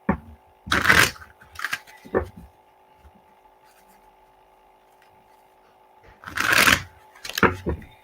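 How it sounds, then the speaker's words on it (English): Tarot cards are shuffled in two quick, close riffling bursts, with a few soft card taps and slides between them and a faint steady hum underneath. "Let me pull some cards here for you."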